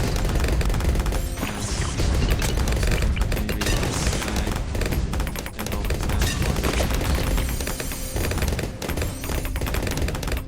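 Banana bomb explosions in the tower defense game Bloons TD 6: a dense, loud, continuous barrage of overlapping blasts and crackling impacts with no letup.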